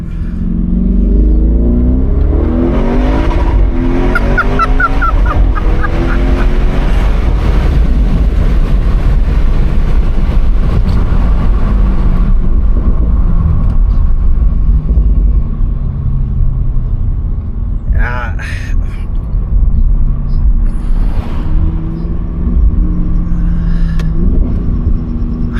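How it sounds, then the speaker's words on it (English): A 2017 Audi RS6 (C7) exhaust roars loudly and close, rising through a rev with a deep rumble before settling to a steady, throaty drone, with a few brief crackles near the end. "Oh man, this exhaust."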